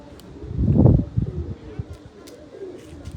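Pigeons coo in a loft, a low throaty burst followed by softer murmurs, close by, while someone talks nearby.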